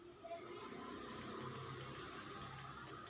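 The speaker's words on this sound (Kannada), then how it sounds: "ಅಳತೆಗೆ ನೀರು ಹಾಕ್ಕೊತೀನಿ." Water poured into a cooking pot for MTR vermicelli, a steady splashing fill that runs continuously at close range throughout.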